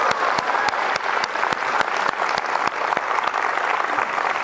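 A studio audience at a comedy variety show claps steadily and loudly, a dense, continuous round of applause with sharp individual claps standing out.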